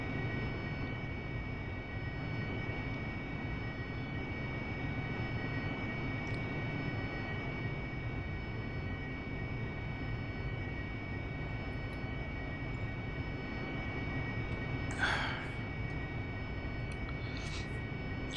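A steady jet engine roar from an AV-8B Harrier taking off in the DCS World flight simulator, a constant wide rumble at moderate level throughout with a faint blip near the end.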